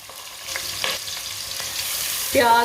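Whole cumin frying in a pan while being stirred, a close, steady sizzle with intermittent scraping strokes and a louder burst of sizzle near the end.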